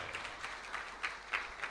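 A church congregation gives loud applause during a sermon about the resurrection: a brief, faint wash of many hands clapping, with a few sharper claps standing out.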